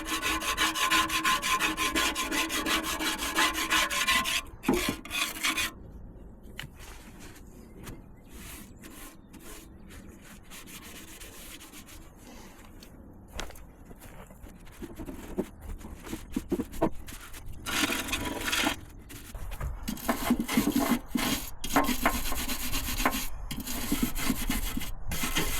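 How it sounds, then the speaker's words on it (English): Metal spatula scraping old gunk layers off the oil pan of a 1952 Chevy truck, a rough rasping scrape in irregular strokes, loud at the start and end with quieter sparse scratches in between. "I'm using a metal spatula, and some of these top layers are coming off easily."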